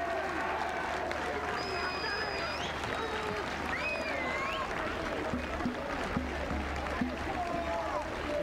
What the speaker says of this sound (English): come to applaud their fans.